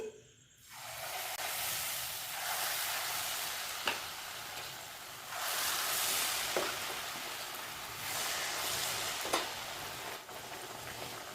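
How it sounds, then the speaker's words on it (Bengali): Malpua batter (palm fruit malpua) sizzling and bubbling in hot oil over a medium flame, a steady frying hiss that swells and eases in waves, with a few soft clinks, no talking. "আরও কিছুটা বেটার তেলের মধ্যে নিয়ে নিচ্ছি"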